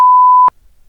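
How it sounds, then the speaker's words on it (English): A single loud, pure censor bleep holds steady for about half a second and then cuts off abruptly, followed by near silence. "I'll bleep it out."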